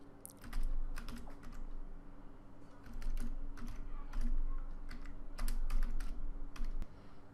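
Rapid, uneven keystrokes on a computer keyboard come in bursts over a low steady hum while HTML code is written, close and clear with short pauses between runs.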